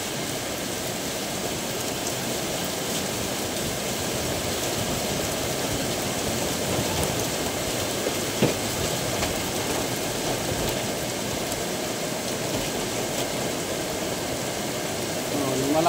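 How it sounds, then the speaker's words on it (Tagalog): Heavy rain pours down at night as a constant, dense hiss that holds level the whole time, with a faint engine hum underneath and no clear speech. "Malakas ang ulan."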